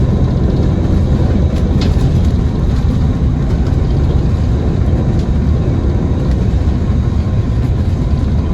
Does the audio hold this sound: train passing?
yes